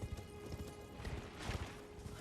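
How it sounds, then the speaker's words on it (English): A horse gallops in the video game Elden Ring, with quick rhythmic clip-clop hoofbeats at a steady pace, fairly close and alone with no talk. "we want to get on the horse while we're in here, and we're going to run past these guys"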